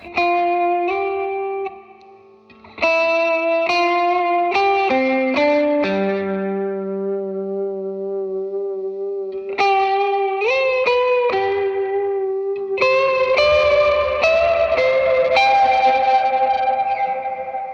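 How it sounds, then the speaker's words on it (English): Electric guitar notes and chords ringing out with a wavering pedal vibrato, sustained tones shimmering under echo and distortion, loud and close. "I can also get like really good vibrato tones as well"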